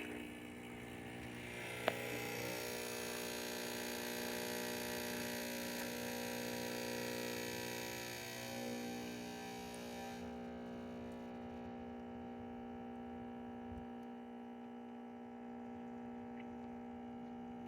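A Lavazza Espresso Point machine, restored with a replacement water pump, runs a brewing cycle with a steady mechanical hum and buzzing pump tone, fairly quiet and continuous, stopping partway and leaving a softer residual hum.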